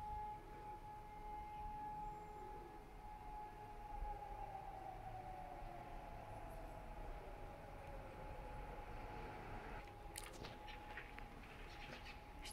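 Emergency sirens wail faintly and far off in a quiet German neighborhood, a thin drawn-out tone drifting over near-silent background hush.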